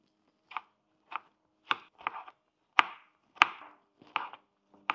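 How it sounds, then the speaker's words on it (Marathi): Tomatoes chopped finely with a knife on a board while making dhaba-style paneer masala curry: about nine separate crisp chops at an uneven pace, close and clear, with no talking. "आपण आता टमाटे बारीक कट करून घेऊ।"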